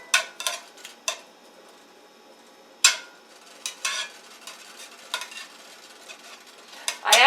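Frozen onions and vegetables being swished around a pan for red snapper in spicy tomato sauce, heard as scattered scraping stir strokes and clinks over a very faint sizzle, with no talking.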